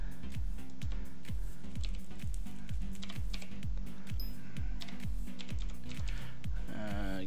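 One-handed typing on a computer keyboard: a run of light, quick clicks, partly masked by a steady, repeating low background tune throughout.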